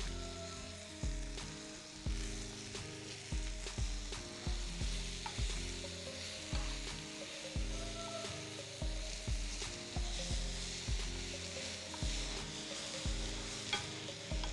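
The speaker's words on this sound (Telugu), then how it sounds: "క్యాప్సికం వేగడానికి ఒక 5 మినిట్స్ అన్న ఈజీగా పడుతుంది" Capsicum frying in a pan on a stove for a tomato chutney, a steady close sizzle with repeated rhythmic stirring scrapes over the full stretch, no voices.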